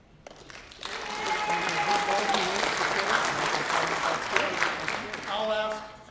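Audience applause at a Middle East peace and security panel, steady sustained clapping from a crowd that builds quickly and then tapers off, with some voices mixed in.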